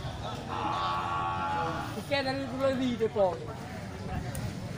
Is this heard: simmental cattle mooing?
yes